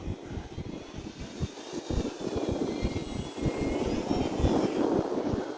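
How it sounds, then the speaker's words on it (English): A Hobbyzone Carbon Cub S 2 1.3m electric RC plane roars overhead in flight as its motor revs hard through a roll, a loud continuous whine with fluttering wind buffeting and no voices. "I really revved the motor up to force it on around on that roll"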